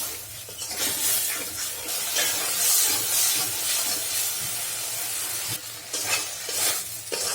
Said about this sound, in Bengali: মশলাটা কষতে থাক